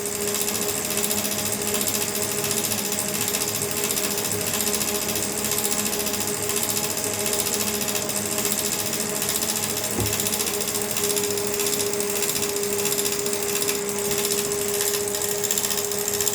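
A Lapcare laptop cooling pad's fans whir and rattle steadily and close by, a constant buzzing mechanical drone with no break that suggests a faulty fan.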